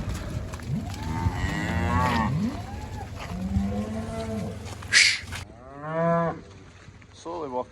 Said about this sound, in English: That's all the cows in here.